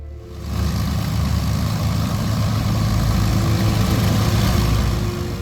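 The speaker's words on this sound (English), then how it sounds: "her mighty engines roared to life." Engines of the Avro Lancaster bomber Just Jane running at a restored wartime airfield, a loud, steady low droning roar that builds in the first half-second and then holds, with no talk.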